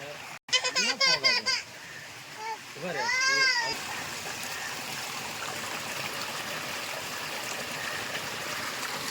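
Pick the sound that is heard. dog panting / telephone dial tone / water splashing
water splashing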